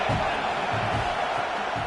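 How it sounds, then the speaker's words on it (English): Football stadium crowd cheering for the home defense on a big third down, a loud, steady roar of many voices filling the whole stretch with scattered shouts. "Big 3rd down as the crowd gets behind this defense."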